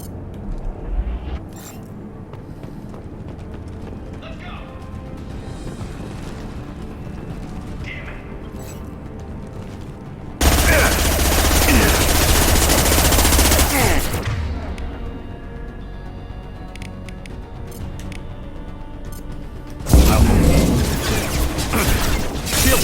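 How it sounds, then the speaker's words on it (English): Gunfire and weapon blasts in the Mass Effect 2 video game: quiet mechanical game ambience, then two loud sustained bursts of firing and impact noise, the first lasting several seconds and the second near the end. "Firing a high impact shot."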